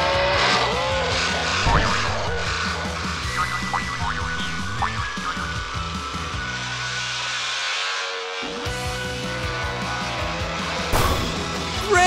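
A toy monster truck engine roars and revs through a test run, loud and rough, with skidding bursts and a cartoonish soundtrack mixed in.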